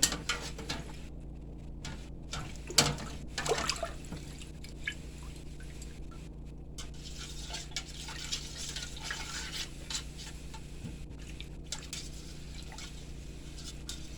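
Herbs swirled through a bowl of water for an outdoor ritual bath make soft drips and liquid trickles, with a brief splash near the start, quiet and steady throughout.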